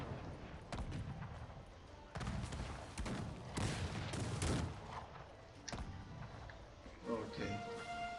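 Ragged volleys of musket fire from massed troops in the strategy game Cossacks 3, crackling bursts that rise and fall over about eight seconds with thuds mixed in.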